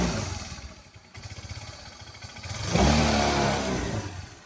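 A Suzuki Access 125 scooter, with a suspected belt fault that leaves the wheel slow to spin, idles, then gets a loud, rising rev from close range partway through that holds to the end.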